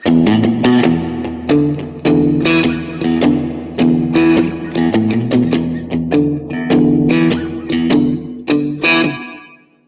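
An electric guitar plays a riff through a Vox amp with reverb, a loud, continuous run of plucked notes and chords with a ringing wash around each phrase.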